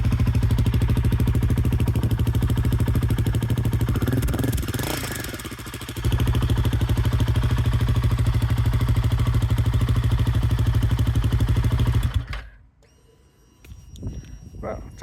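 Motorcycle fitted with an inexpensive universal aftermarket exhaust with the baffle installed idles in a steady, close, throbbing rumble with a brief dip, then cuts off near the end as someone speaks.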